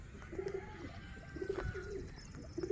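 Pigeons coo softly in repeated low, throaty phrases, several overlapping at moderate distance against faint background noise.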